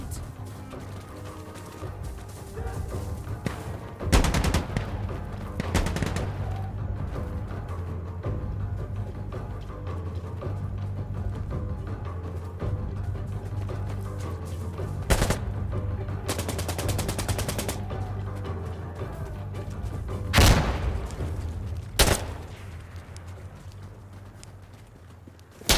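Gunfire in the tactical shooter Insurgency: Sandstorm, a few sharp shots and short bursts scattered over a steady low game-engine hum, with footstep-like clatter between them and no speech.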